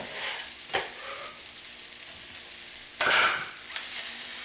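Onions and mushrooms sizzle and fry steadily in a pan, a close, continuous crackle with a few brief stirring scrapes and a louder hissing burst partway through.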